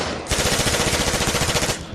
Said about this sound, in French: malheureusement tu prends encore une rafale d'un servant.